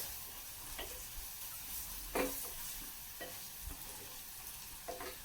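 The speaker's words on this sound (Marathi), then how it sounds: "ते पावडर मसाले पण आपल्याला व्यवस्थित परतून घ्यायचे." Powdered spices frying in hot oil in a pan for dalimbi bhaat while being stirred. A steady sizzle runs throughout, with scattered scraping clicks from the spoon. No one speaks.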